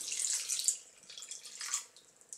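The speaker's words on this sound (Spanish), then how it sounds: "Echamos agua" Water is poured into a bowl to rinse red grapes, splashy hissing gushes in two or three bursts, fairly faint and close with no speech.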